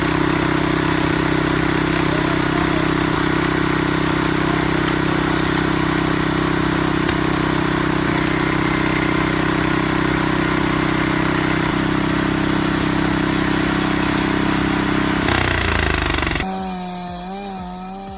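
A homemade chainsaw mill cuts an urban pecan log, the saw engine droning loud and steady under heavy load for about fifteen seconds before cutting out abruptly.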